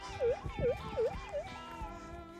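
A GPX 6000 metal detector reacts to a magnetite rock with a rising and falling siren-like warble repeated four times, then fading, faint and with no talking.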